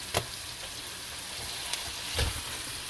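Pork loin sizzles steadily in a hot pan after a flip, a close, even frying hiss broken by a few brief clatters.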